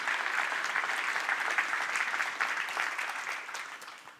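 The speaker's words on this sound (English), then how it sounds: "So round of applause for Tino for that work." Conference audience applauding steadily for about four seconds, a dense wash of many hands clapping that tapers off slightly at the end.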